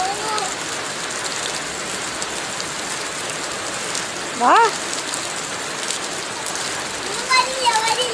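Steady rain falls in a constant dense hiss on the surfaces nearby, while a voice and other short voices sound briefly over it.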